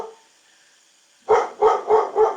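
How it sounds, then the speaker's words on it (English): A pet dog barks four times in quick succession, loud and close, after a stretch of near silence indoors during a live online session. "Oh my god, my dog is freaking out."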